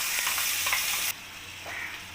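A ground spice paste sizzles loudly in a hot wok (kadai), frying for a chicken curry with bright continuous hiss that abruptly drops to a quieter simmer partway through, with faint stirring scrapes.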